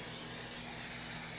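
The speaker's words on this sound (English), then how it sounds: "Olive oil spray." Olive oil spray mists onto a baking pan in a steady, even hiss lasting a little over a second, fairly quiet and close, with no voices.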